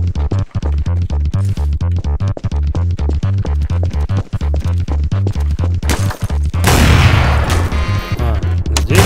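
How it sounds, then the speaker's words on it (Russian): Rapid bursts of gunfire from a firefight in Garry's Mod DarkRP, loud and close, with repeated shots in a steady pattern before a heavier burst of fire near the end, with no talk over it. "Откуда стрельба была?"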